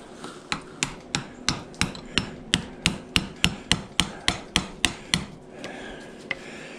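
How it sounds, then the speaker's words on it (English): Small hammer striking a fan motor clamped in a vise: about fourteen sharp metallic blows at an even, quick rhythm, then a pause and one last lighter tap, close and clear with no talking. "stick it in the vise, and I think I'll get the smaller hammer"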